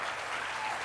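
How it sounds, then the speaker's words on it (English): An audience at the Reed College commencement in 2012 breaks into applause: a brief, steady wash of many hands clapping together at a moderate level, with no speech over it. "before you applaud, I should say"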